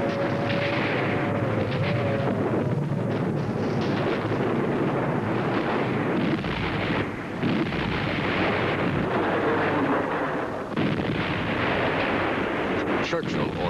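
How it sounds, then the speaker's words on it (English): World War II German bombs explode over London in an air raid, a dense, continuous roar of blasts and rumbling that stays loud from start to finish, with a narrating voice beneath it. "a German squadron of bombers accidentally drops its bomb loads on civilian targets in London"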